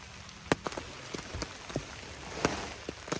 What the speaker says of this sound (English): the rain is picking up once again.